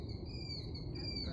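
A bird calls at the Milton Fairgrounds with thin, high, wavering cries over a low background rumble, faint and brief.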